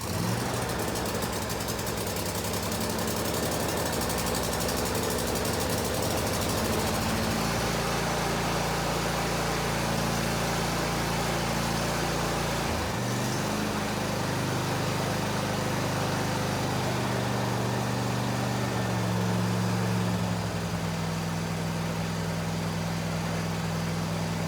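A John Deere S140 lawn tractor engine runs steadily as it warms up after sitting all winter, a loud continuous idle with a low throbbing drone and a brief dip in pitch midway, with no talking.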